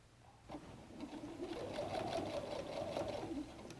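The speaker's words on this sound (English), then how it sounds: "stitching across that chalk line to the other end of the flap" A sewing machine stitches across a messenger bag pocket flap through three or four layers of fabric, a quiet, steady mechanical whir with a rapid needle rhythm that starts after a brief pause and carries on alone.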